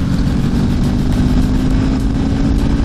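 A Honda V65 Magna and a Suzuki GV 1200 Madura accelerate hard side by side in sixth gear from about 2,500 rpm, producing a loud, close, steady engine roar throughout.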